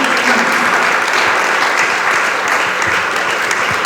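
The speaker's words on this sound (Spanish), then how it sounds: "Dele palmas al Dios del cielo." Congregation applause during a church sermon, loud, dense clapping from many people, continuous throughout with faint voices mixed in.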